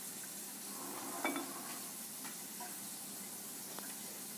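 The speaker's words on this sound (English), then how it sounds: "Stir it with a fork till it's dissolved." A fork stirs yeast into a quarter cup of water, giving faint, sparse scrapes and light clinks against the measuring cup over a soft steady hiss, with one slightly louder stroke early on.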